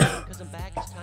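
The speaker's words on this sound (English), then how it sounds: "sorry about my cough" A short, rough cough or throat-clearing from a man reviewing the Yu-Gi-Oh 3D Bonds Beyond Time movie, loud at the start and then fading into quieter vocal noise.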